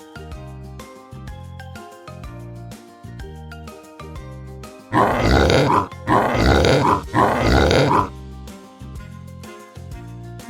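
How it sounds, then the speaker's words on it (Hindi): A pig grunts in three loud, rough bursts of about a second each, evenly spaced, cutting over cheerful background music that continues before and after. "घास पर कितने सूअर हैं?"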